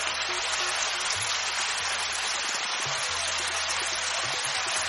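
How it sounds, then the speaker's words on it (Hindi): Steady rain falls in a cartoon village scene, a soft, even hiss of drops with no voices over it. "सिर्फ बारिश की आवाज सुनाई देती है।"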